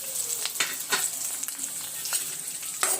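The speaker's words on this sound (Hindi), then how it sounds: "इसमें हम तड़काएंगे।" Dried red chilli, fenugreek seeds, cumin and dried coriander sizzle in hot oil for a tempering, a close, steady fry hiss with soft pops and stirring scrapes.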